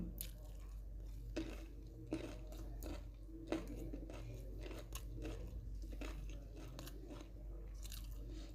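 Crisp, repeated crunching bites of raw cauliflower, close and fairly quiet, with irregular sharp snaps of chewing over a low steady background hum and no talking.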